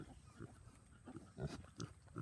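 Pigs on a homestead grunting softly in the background, a few short low grunts scattered through a quiet pen with faint ambient noise.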